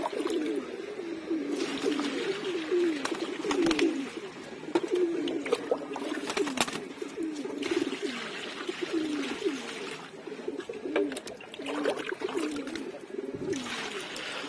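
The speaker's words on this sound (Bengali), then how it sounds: "এই যে কবুতরগুলোর পানি গোসল করার জন্য" Pigeons coo continuously while bathing in water mixed with potash. Several birds give overlapping low, rolling coos at close range, with occasional splashes and faint water noise underneath.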